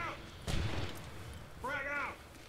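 A single grenade blast in the tactical shooter H-Hour, a sharp loud boom with a short rumbling tail, followed by a voice calling out.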